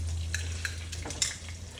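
Schnitzel frying in a pan over heat just below medium, a quiet continuous sizzle with a low steady hum and a few soft clicks of utensils against the pan.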